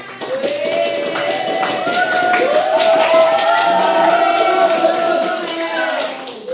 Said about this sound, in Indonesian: Ayo berikan tepuk tangan.